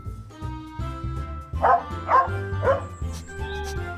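A small dog gives three short, high yips in quick succession, close by, with a low hum and faint background sounds around them.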